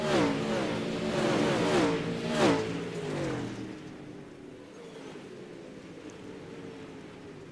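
Late model race cars roaring past in a heat race at Knoxville, loud engine sweeps that pass close and then fade to a distant, steady drone.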